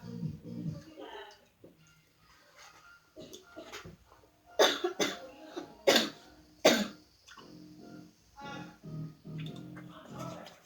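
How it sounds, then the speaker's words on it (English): Someone coughs in another room, several sharp coughs and throat clearing with breathing between them, up close and fairly loud. "You can hear my sister coughing in the other room."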